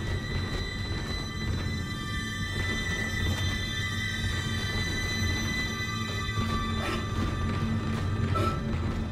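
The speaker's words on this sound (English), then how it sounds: "Tram arriving at flight deck station." Shipboard tram from the video game Dead Space (2008) pulls into the flight deck station with a steady metallic rumble, grinding wheels and mechanical hum, loud and close, with no voices.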